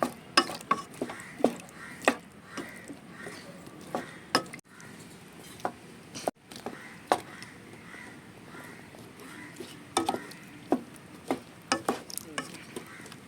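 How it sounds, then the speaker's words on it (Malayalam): Boiled tapioca pieces being mixed and mashed in a pan for milk tapioca, with an irregular series of sharp spoon knocks and scrapes over a quiet background. "അത് നമുക്കിനി നല്ലോണം ഒന്ന് മിക്സ് ചെയ്ത് കൊടുക്കാം"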